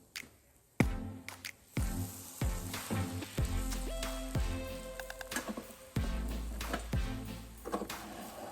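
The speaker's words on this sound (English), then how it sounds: "We want these to be golden brown on the bottom side, so we're gonna let them cook a little bit before we try to flip them." French toast fries in a pan with a steady sizzle, broken by several sharp clatters and thumps of utensils against the pan, with no talking.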